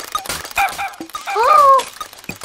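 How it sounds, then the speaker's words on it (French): A small cartoon dog yips and whimpers in short high-pitched bursts, with one longer whining cry, close and fairly loud. "Il peut aussi aboyer"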